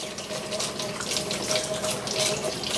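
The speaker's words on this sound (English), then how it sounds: "First, I'm going to wash the coffee out." Tap water running into a sink to wash out a coffee grinder, a steady close splashing rush lasting throughout with slight fluctuations as the flow hits the grinder.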